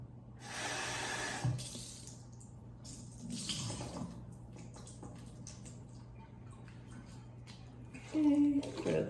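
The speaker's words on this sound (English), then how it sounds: "With the black beans, you want to go ahead and drain and also rinse." Running tap water pours over canned black beans being drained and rinsed in a strainer for taco soup, a steady broadband wash that swells and fades over several seconds, with a brief clatter near the end.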